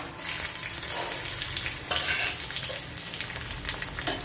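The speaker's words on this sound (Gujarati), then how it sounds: "હવે આને આપણે આ રીતના શેકાવા દઈએ મરચાંને" Green chillies and curry leaves fry in hot oil with a steady, close crackling sizzle and a few scraping stirs, no talking throughout.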